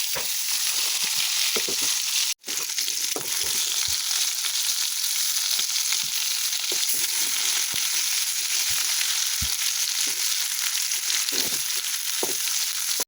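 Bitter gourd slices fry in leftover hilsa fish oil, a steady loud sizzle with crackling pops and occasional stirring scrapes throughout, briefly dropping out once near the start, no talking.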